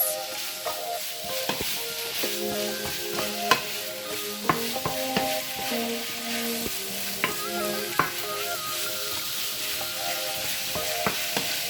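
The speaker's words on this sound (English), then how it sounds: "just make sure to smash it down with the wooden spoon so that it's nice little pieces" Meat frying in a pan while a wooden spoon smashes and stirs it, with frequent knocking and scraping strokes over a constant close sizzle.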